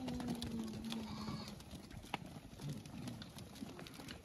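A few Osmanabadi goats on a Jintur, Parbhani sale farm give short bleats, fairly close, over a continuous low rumble and scattered farmyard knocks.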